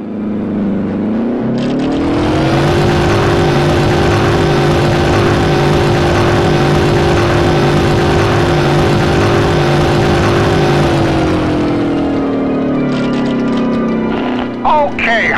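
A fighter plane engine in the video game Heroes of the Pacific drones loudly and steadily as the plane climbs, its pitch stepping up near the start and dropping off near the end, with brief talk under it.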